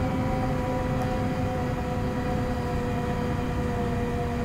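Bell 206 helicopter in the X-Plane 10 flight simulator, a steady, loud, unbroken engine and rotor drone with constant tonal hum, heard alone without any talking.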